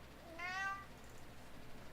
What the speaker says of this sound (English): Yeah, I hear you, cat.